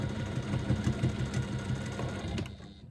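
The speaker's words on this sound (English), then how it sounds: "I'm now going to stitch it again, 3/8 of an inch seam allowance" A sewing machine stitches a seam in a fabric twist pouch with a 3/8-inch seam allowance, a close, steady mechanical whirr with a rapid even needle rhythm that runs throughout and stops abruptly at the end.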